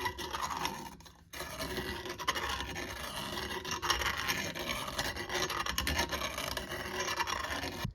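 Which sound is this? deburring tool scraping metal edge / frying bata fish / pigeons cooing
deburring tool scraping metal edge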